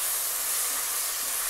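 Ginger garlic paste hits hot oil for Telugu bagara rice, giving a steady, loud hiss that holds evenly for the whole moment with no break.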